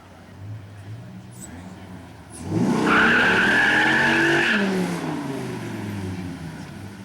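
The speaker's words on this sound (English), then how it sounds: "This is one of our drag races of the afternoon, the Vipers against the electrics" Drag race between Dodge Vipers and electric cars at a 1999 electric drag racing event: an approaching car swells into a loud screeching, whining pass with tire squeal, then fades into crowd rumble.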